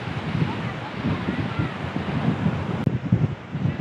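Steady roar of sea surf on the beach at Mandarmani washes over the scene, mixed with gusty wind buffeting the microphone and a brief click.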